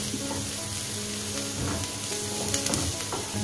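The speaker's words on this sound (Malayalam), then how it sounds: "ചെറുതായി ഒന്ന് കളർ മാറുന്ന വരെ നമുക്കിത് നന്നായി വഴറ്റിയെടുക്കാം" Onions sautéing in a pan for Kerala-style chicken thoran, giving a steady close sizzle with a few soft stirring scrapes, and no voice.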